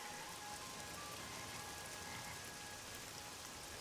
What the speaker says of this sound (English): it's been bloody raining for all 3 episodes now